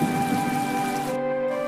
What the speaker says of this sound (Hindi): ये तो बहुत तेज बारिश हो रही है